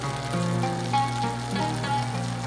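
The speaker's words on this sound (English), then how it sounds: "first in a heated pan we want to melt 1 tablespoon of butter" A tablespoon of butter melts in a heated pan, giving a close, steady frying sizzle with a constant low hum beneath and faint crackles throughout.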